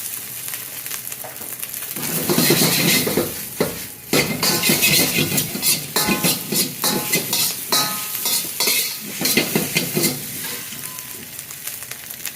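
Popeyes rice stir-fried with an egg in a pan, loud continuous sizzling and frying with repeated scraping and clinking of a utensil against the pan, steady throughout with no talking.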